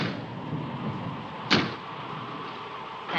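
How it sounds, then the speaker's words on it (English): A door banging in the wind against a house, heard as a single sharp knock midway through a steady windy rushing background. "That's just the wind banging a door."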